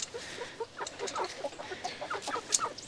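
Several chickens cluck and chatter softly in a coop, a steady scatter of short clucks with one sharper call near the end, no voices.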